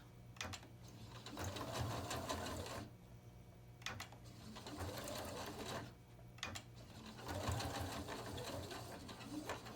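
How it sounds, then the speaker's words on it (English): A sewing machine stitches back and forth through a thick rope dog pull toy, its motor whirring in three steady bursts separated by short pauses, close and moderately quiet. "puts the needle down into the rope so it's not going to shift as much"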